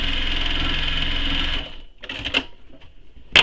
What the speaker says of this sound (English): my seam is open a little bit here, so I'm just going to stitch that